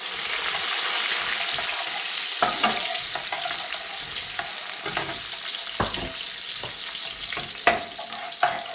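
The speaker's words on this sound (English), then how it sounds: "let the garlic cook through" Garlic sizzles in a hot pan with fenugreek, a loud, continuous frying hiss broken by sharp scrapes and clicks of stirring, with no one speaking.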